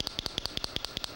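A handheld clicker toy imitating a cicada's timbal sound snaps in a quick, even train of about a dozen sharp clicks, close and fairly quiet.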